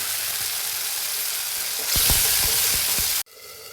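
Masala for tomato dal sizzling in a pan, a steady close frying hiss that swells as a spoon stirs through it with a few quick scraping strokes, then stops abruptly.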